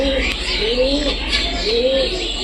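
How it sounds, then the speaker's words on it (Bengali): Pigeons sitting out in the sunshine give a few soft, rolling coos in sequence, close by and fairly clear over a low background hum. "এই দেখো কবুতরগুলো সব বসে আছে"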